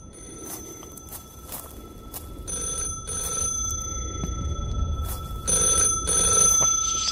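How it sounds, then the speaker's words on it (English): Telephone ringing from a tree in the PC horror game Forest God, repeated electronic ring bursts in an uneven rhythm over a low rumble of ambience and footsteps, growing louder toward the end. "It's just a phone ringing on a tree."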